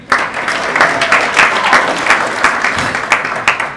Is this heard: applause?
yes